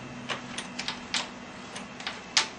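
Ratcheting clicks come in an irregular series, sharp and close, as an 8mm Allen key and a 17mm socket work a motorcycle motor mount bolt loose below the swing arm.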